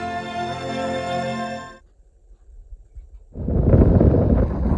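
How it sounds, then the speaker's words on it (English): Strong outdoor wind buffets a microphone near a rural intersection and barn, first giving way to near-silence and then rising into a loud, roaring rumble of wind noise. "it's very windy, so I apologize if the audio sounds poorly because of it"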